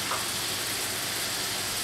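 Steady, dense sizzling of food frying in a hot cast iron pan, an even hiss that holds without a break for the full moment, with no voices.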